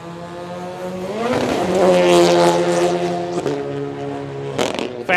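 A rally car on a dirt speedway stage climbs to a loud, high-revving wail, holding the throttle flat through a jump, with the pitch rising, briefly dipping, then roaring on close and unbroken.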